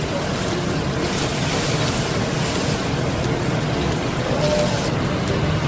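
Ground cumin and coriander sauté in a pan for Bengali sabudana khichuri, giving a steady, dense sizzling hiss that runs unbroken and close throughout, with no voices.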